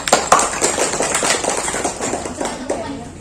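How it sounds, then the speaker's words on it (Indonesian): Student audience applauding at a school quiz competition final, a sparse but lively burst of hand claps from a small group nearby, strongest at first and then tapering off. "Oke, tepuk tangan dulu."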